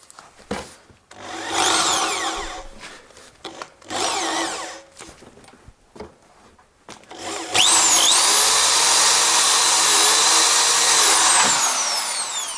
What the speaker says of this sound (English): now I have 6mm drill and electric drill, and I will do in here